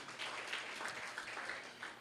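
A church congregation claps together during a Sunday worship service, a dense, steady wash of many hands clapping that fills the whole moment without a break.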